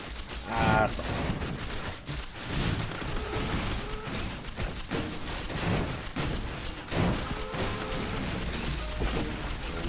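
Heavy artillery booms and crashing impacts from cremators in a roguelike video game, repeated blasts over a dense mechanical rumble, loud and continuous across the stretch.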